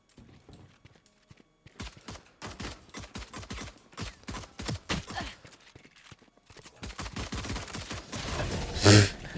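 Rapid bursts of gunfire in the video game Valorant during a spike round at site B, coming in dense volleys with short gaps, then a loud blast near the end.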